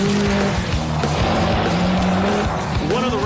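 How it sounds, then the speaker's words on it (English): Rally cars race at the Thousand Lakes Rally in Finland, engines snarling and shifting pitch, with a rising rev near the end, loud and close, with a voice talking over the noise. "The Thousand Lakes Rally in Finland is one of the fastest rally car races in the world"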